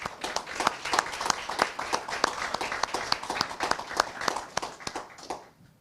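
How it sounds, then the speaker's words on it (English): An audience at an awards ceremony claps for honored agency employees: dense, lively applause of many hands, fairly close, fading out over the last second. "let's give them one more round of applause"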